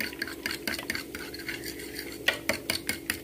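Eggs for a mushroom omelette are beaten briskly in a bowl with a fork or spoon, producing quick rhythmic clinks and scrapes against the bowl, close and clear, with no voices.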